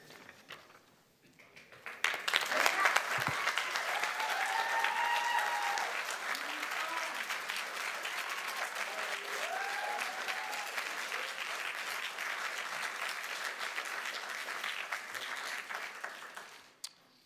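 A room of attendees at a Kern County Board of Supervisors evening budget meeting breaks into sustained applause that swells after a quiet start and holds steadily for about fifteen seconds before stopping abruptly, with a few voices mixed in.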